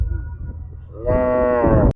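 A bull at a bullock cart race on the Bagewadi maidan gives one loud, deep, drawn-out moo that rises out of a low background rumble and stops abruptly.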